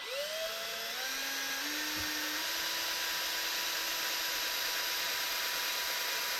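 A drill bit bores into a homemade live bait float (bobber), giving a steady high-pitched whine that rises in pitch as it spins up, then holds a constant tone under a persistent hiss.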